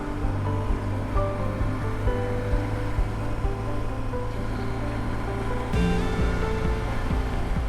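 A 2008 BMW R1200GS motorcycle, back running after 16 years in storage, holds a steady idle with a low continuous engine drone, a brief rise in pitch partway through, with no talking.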